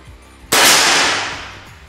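A single sharp air rifle shot fired during a chronograph speed test with Mimis Barracuda Max pellets, a loud crack that decays over about a second and a half, with no other sound around it.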